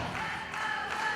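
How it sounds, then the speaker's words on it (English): A wrestling crowd at a championship wrestling show cheers and yells for Luke Fury, a brief wash of mid-distance shouting and applause from a large audience. "People cheering for Fury here."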